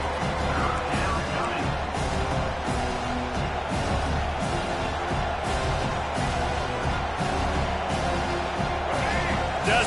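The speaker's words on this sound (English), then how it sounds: "Decibels rising as the crowd gets behind this defense on 3rd down" Steady roar of a stadium crowd building during a third-down defensive stand in College Football 25, a dense wash of cheering with crashing noise spikes, continuous and loud throughout.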